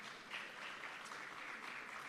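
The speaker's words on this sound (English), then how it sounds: "A round of applause for our minister." Steady applause from an audience for a minister at a ministry rebranding and quality recognition event, heard fairly distant and soft as an even wash of many hands clapping.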